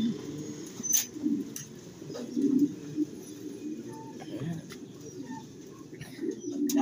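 Pigeons at a pigeon farm give low, throaty coos in repeated bursts, close and moderately loud, over background rustling, with occasional sharper clicks and faint people talking.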